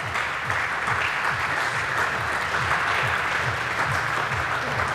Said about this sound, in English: thank you for the talk, please. Everybody yeah. give some applause.